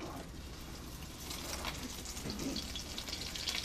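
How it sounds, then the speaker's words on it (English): Shrimp sautéing in oil in a hot frying pan, a steady broadband sizzle and crackle with spattering that swells slightly toward the end, close and moderately loud with no talking. "I'm going to move to my right so that I can get to that frying pan, because I'm going to saute in it."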